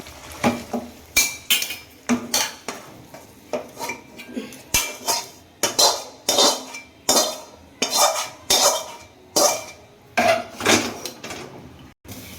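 A pot of Bengali doi katla, a yoghurt-based rohu fish curry, being uncovered and taken off the stove, with a steady run of sharp metallic clanks and scrapes of lid, utensils and cookware, loud and close with no voices.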